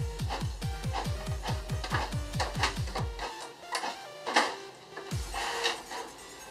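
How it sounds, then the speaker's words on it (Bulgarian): Brother J5910 inkjet printer fitted with a continuous ink supply system runs close up, with a rapid series of rhythmic mechanical clacks from the feed mechanism, then a pause and softer whirring and clicking as the print head moves. "Ето, това е работата на принтер Brother J5910."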